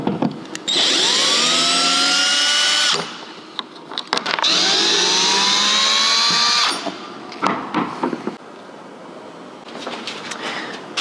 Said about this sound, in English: we're just going to take out these screws here